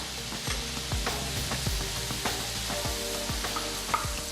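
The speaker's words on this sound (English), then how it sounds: "I just saute that for 3 or 4 minutes until the fat starts to render out" Meat sizzles and fries in a pot as its fat renders out, a steady crackle with occasional scraping stirs, fairly quiet and close.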